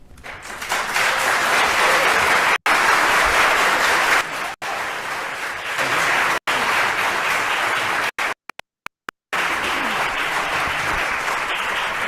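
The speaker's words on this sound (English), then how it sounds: "that was received by thunderous applause" Thunderous applause from a large audience fills the space, a dense loud roar of clapping sustained for several seconds with a few abrupt cuts partway through.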